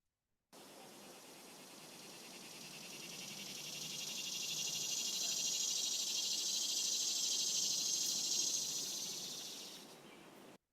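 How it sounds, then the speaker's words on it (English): A swamp cicada calls in a long, steady buzzing drone. It swells gradually louder toward the middle and then cuts off at the end, heard alone with no talk. "This is the swamp cicada."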